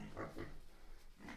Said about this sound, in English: Pigs are doing okay though, you know.